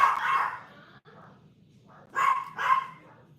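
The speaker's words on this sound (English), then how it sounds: "make the barking stop" A dog barks in two short bursts, one near the start and a double bark later, loud and close with no talk.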